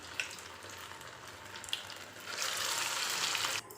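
Dough patties frying in hot oil on a home stove, a soft, steady sizzle with a few faint crackles that swells louder near the end and then drops off.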